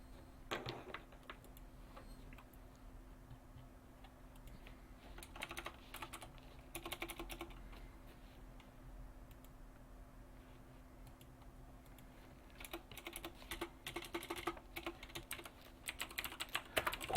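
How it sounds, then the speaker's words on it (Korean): Steady typing on a computer keyboard, bursts of rapid key clicks alternating with quieter stretches, close and clear, with no talking and a faint constant hum beneath. "타자로 치는 게 여러분이 더 잘 보일 것 같은데"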